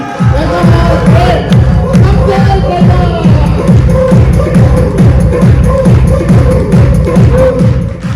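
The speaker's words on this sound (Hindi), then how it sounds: "मैं चाहता हूं शमशेर जी के लिए एक जोरदार तालियां सुनते हैं" A crowd gives Shamsher ji loud applause as rhythmic clapping in unison, a close, steady beat of claps that keeps going throughout.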